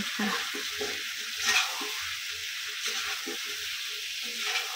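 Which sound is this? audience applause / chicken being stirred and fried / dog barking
chicken being stirred and fried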